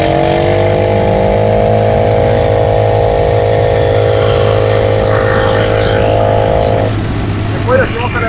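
A bicycle fitted with a brushcutter engine and a CVT drive revs hard in a loud, steady buzzing drone that holds for several seconds and then drops off.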